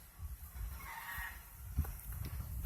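A goat bleats once, faint and distant, amid low outdoor rumble and handling noise, on a mountain farm in Negros Oriental, Philippines.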